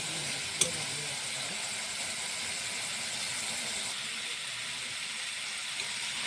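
Garam masala, meat masala and red chili frying in a pan for pork curry, a steady, quiet sizzle and hiss with a brief clink near the start.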